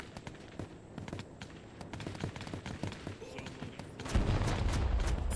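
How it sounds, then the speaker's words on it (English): Sniper rifle shots ring out in the VR shooter Plastic Battlegrounds. Scattered sharp cracks and pops sound at varying distances across the scene, with a louder burst near the end. "We can try the sniper, I guess, so you can see the sniping action"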